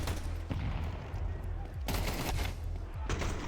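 Tec-9 gunfire in Counter-Strike during a Vitality vs MongolZ major final, heard as several clustered bursts of sharp shots over a dense game mix, with no talking.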